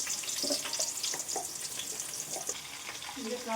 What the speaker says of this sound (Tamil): நம்ம வெங்காயத்தை போட்டு நல்லா அந்த மாதிரி நம்ம வதக்கிக்கலாம்